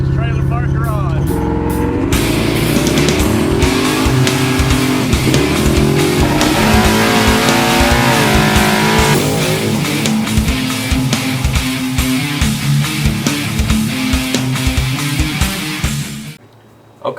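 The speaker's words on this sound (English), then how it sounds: "I'm sitting in a 1933 Coupe with a small block Mopar and a fake blower." A 1933 coupe with a small block Mopar engine and a fake blower runs loud and close, rumbling and revving throughout with shifting pitch, then cutting off abruptly near the end, with someone talking over it.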